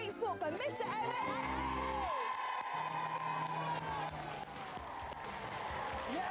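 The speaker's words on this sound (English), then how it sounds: "A big round of applause." Studio audience on a 1994 TV celebrity game show claps and cheers, a sustained crowd roar with whoops, while music and a voice carry on over it.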